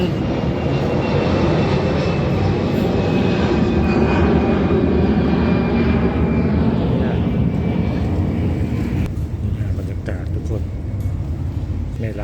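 An airplane drones overhead near Chiang Mai Gate in Chiang Mai, a loud sustained engine roar that fades slightly toward the end while someone talks over it.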